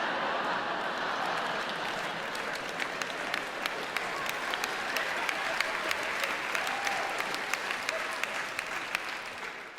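Comedy show audience applauding, a steady wash of many hands clapping with a few sharper individual claps standing out, sustained evenly for about ten seconds.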